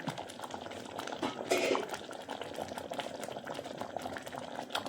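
White chickpea curry bubbles at a steady boil in a pot, a continuous soft wash of simmering and popping with a brief louder surge near the middle, no voices.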